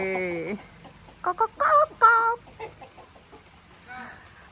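Chickens at a farmyard in rainy weather cluck a few times in short, close bursts mid-clip, with quiet background noise between calls.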